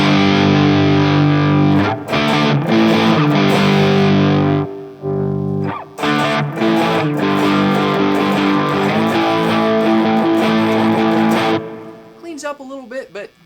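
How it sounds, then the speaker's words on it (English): Heavily distorted electric guitar chords through a DOD Gunslinger distortion pedal ring out loud and saturated, with short pauses between strummed phrases and a fading, quieter tail at the end. "there's really not a lot to demonstrate on a distortion pedal. It's definitely distorted."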